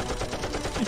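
Gunfire in a Minecraft animation comes as a dense, rapid rattle of shots with no break, loud and close.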